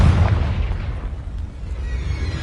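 A Confringo blasting spell explodes in Hogwarts Legacy, a deep, rumbling boom that slowly fades into a low, lingering tail.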